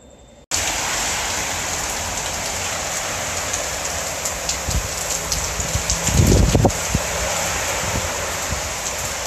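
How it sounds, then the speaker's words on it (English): Rain falls on a Friday afternoon in Merida, Mexico, a dense, steady hiss that starts abruptly and continues evenly, with a brief louder patch of nearby splashing midway. "Just some rain on a Friday afternoon."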